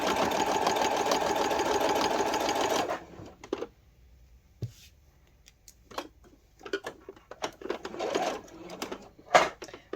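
A sewing machine stitches patchwork with the needle set to stop down, a close, steady mechanical whir for a few seconds that stops, followed by quiet ticks, fabric handling and brief clicks.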